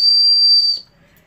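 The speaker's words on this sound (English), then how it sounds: "I have a whistle." An emergency whistle clipped to a survival staff's carabiner gives one loud, shrill, steady blast close by, which cuts off abruptly after under a second and leaves near silence.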